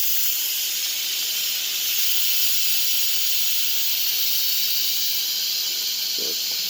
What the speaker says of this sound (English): I released the sealing and the steam is coming out